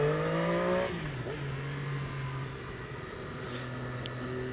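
A Triumph Daytona 675R motorcycle engine while riding, a steady close drone whose pitch drops as the revs ease off, then holds an even hum with wind noise.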